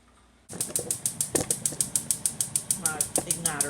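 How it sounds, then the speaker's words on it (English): A gas stove igniter stuck on clicks rapidly and steadily in the background, an unbroken run of evenly spaced ticks with a faint voice briefly underneath. "My igniter is stuck on. That's what you hear in the background."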